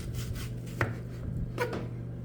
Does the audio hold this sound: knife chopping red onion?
yes